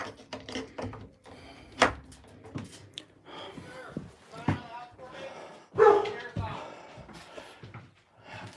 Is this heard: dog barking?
yes